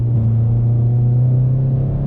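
Manual six-speed Golf GTI with a track exhaust shifting into second gear, a loud, steady low engine drone and rumble heard from inside the car.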